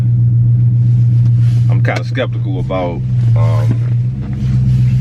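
A 2020 Dodge Challenger R/T Scat Pack engine gives a low, steady rumble that continues under someone talking close by.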